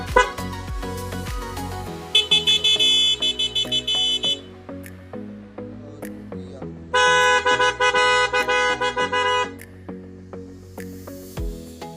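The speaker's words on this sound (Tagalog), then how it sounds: "Ito naman selector ng busina." A Honda Navi motorcycle horn blares in two long, loud bursts, each a steady tone lasting a couple of seconds, with clicks and short beeps between them.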